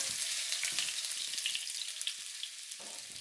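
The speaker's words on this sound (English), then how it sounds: "ginger and a tablespoon of garlic. Kind of browning a little bit." Ginger and garlic fry and brown in a pan with a steady, close sizzle and a few small pops and stirring sounds throughout, with no voices.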